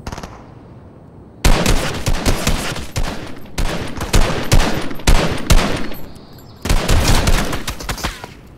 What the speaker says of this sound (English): Who the heck is already shooting at me?